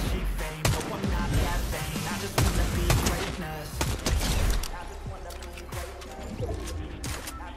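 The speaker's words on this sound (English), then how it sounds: "They shooting." Gunfire in the Fortnite video game: dense bursts of shots and impacts crackle throughout at close range, mixed with game effects and players talking over the action.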